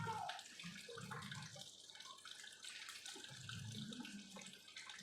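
Water from an ANESPA filter pours steadily into a cup, a soft, faint splashing and trickling with no talking.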